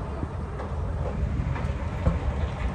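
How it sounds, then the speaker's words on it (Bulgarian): A metro train in Germany rumbles steadily at close range, a dense low roar with faint rhythmic rattling and clatter running throughout, with no voices over it. "Ето го метрото."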